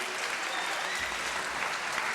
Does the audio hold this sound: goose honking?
no